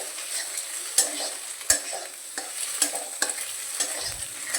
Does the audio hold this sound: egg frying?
yes